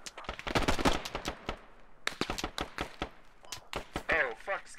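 A scout gun fires in the game Squad in a rapid rhythmic burst of sharp shots, moderately loud, mixed with voices talking over it.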